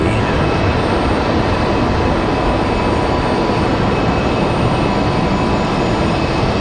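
A Mesa Airlines United Express airliner at Raleigh-Durham airport produces a loud, continuous broadband jet roar that holds steady throughout, with no speech.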